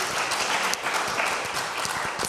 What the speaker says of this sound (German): Das stimmt und ist auch nochmal ein Applaus wert.